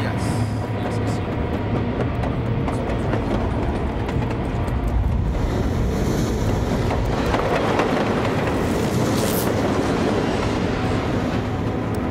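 A train rumbles steadily along the rails with a continuous low roar and faint rhythmic clatter, close and loud, with voices talking underneath.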